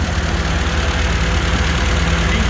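An MGB's engine idles steadily with its electric cooling fans running, a continuous close, even rumble and whir holding at one level throughout with no voices.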